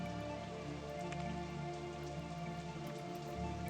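Steady rain patters in RollerCoaster Tycoon, a dense, even hiss of drops that stays level and continuous throughout, with no voices over it.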